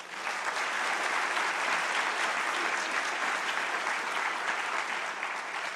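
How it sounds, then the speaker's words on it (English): Dense, steady applause from a large crowd at a Rotary Club meeting during a mayor's State of the City address, holding an even, unbroken level throughout without any voices. "I'd like to give one more round of applause if I can"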